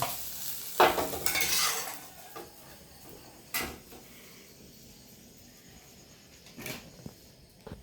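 Food fries in hot oil in a pan, with a soft steady sizzle broken by a few sharp scraping stirs of a utensil, the loudest near the start.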